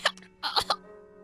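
A short, sharp cough and a rough throat clearing, a few close bursts within about a second, heard during Resident Evil 7 gameplay.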